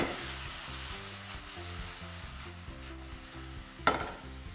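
Chopped onion, tomato and capsicum tossed quickly in a pan over high heat, with a steady sizzle and rhythmic scraping stirs, plus one sharp clack near the end.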